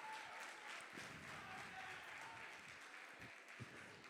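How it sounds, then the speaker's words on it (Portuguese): A church congregation claps in soft, distant applause for André, with a few sharper individual claps standing out near the end of the short burst. "Palmas para o André"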